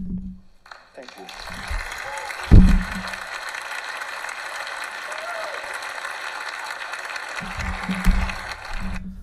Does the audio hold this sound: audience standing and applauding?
yes